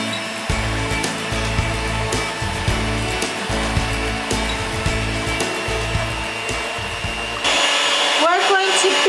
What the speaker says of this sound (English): Now we're going to beat this with the whisk attachment on our beater.